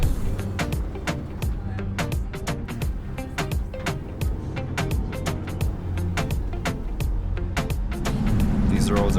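A car packed with passengers drives along winding roads near Panajachel in Guatemala, a steady low engine and road rumble with rapid rattling and clicking from inside the cabin throughout.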